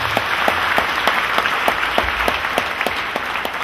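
Church congregation clapping for Jesus Christ, a loud wash of applause with sharp regular rhythmic claps marking a steady beat about every quarter second, sustained throughout.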